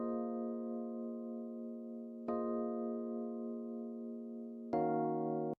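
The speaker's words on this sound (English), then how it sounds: "So for the piano sound, it sounds like this without effect on." A dry electric piano from an Afrobeats-style beat plays three long sustained chords with no effects, each struck cleanly and held steady, alone and close.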